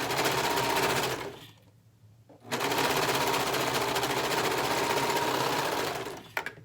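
A sewing machine stitches a neckband into a shirt, running in fast, steady bursts with a short pause near the start. It is close and fairly loud, with no talking.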